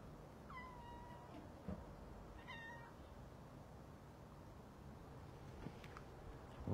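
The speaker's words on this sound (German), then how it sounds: "Da vorne ist eine schwarz-weiße Katze." A black and white cat meows outdoors in cold weather, two or three drawn-out calls early on, moderately close over steady wind and ambient noise, with no talking.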